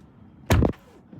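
A single solid thud of a 2024 Tesla Model 3 Performance door shutting, short and close, in an otherwise quiet space.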